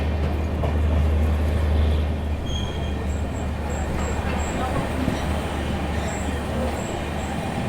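An LHB Tatanagar–Thawe Express train runs into Kiul Junction, with a steady rumble of wheels on rails, a low hum underneath and occasional high metallic squeals, heard from close by.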